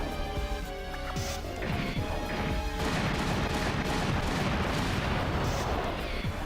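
Volleys of 120mm rockets in the mecha strategy game Front Mission 2 pound continuously as layered explosive crashes and booming impacts, dense and loud over a tonal game soundtrack, with no talking.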